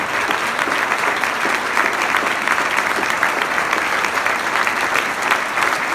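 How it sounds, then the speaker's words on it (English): Sustained audience applause for Olympic medalists standing at the International Swimming Hall of Fame 2017 ceremony, dense and steady clapping from a large room throughout, with no talk over it. "And let's applaud them, please."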